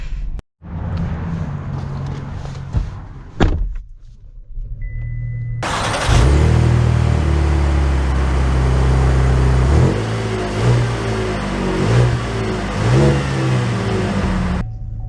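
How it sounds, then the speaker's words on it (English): A Chevy Traverse SUV pulls away and drives off, its engine note swelling loud and steady from about the midpoint with rising and falling revs, after quieter interior sounds at the start. "we are setting off in the Traverse now"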